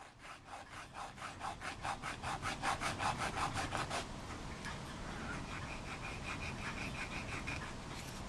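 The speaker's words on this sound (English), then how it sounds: "if I'm going to be scraping the edges of this up here to make it smaller so it'll fit" A blade rapidly scrapes the edges of a small model ship part in quick rhythmic strokes, close and fairly quiet, then gives way to a steady, softer rasping.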